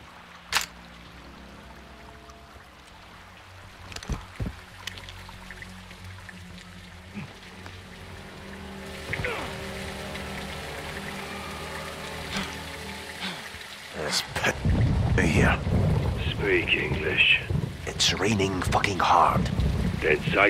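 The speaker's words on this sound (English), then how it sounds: "Rain's good, it'll cover your tracks." Rain and thunder in Call of Duty: Modern Warfare II: a low rumble and scattered cracks build into a heavy, steady downpour, with people talking over the storm in the later half.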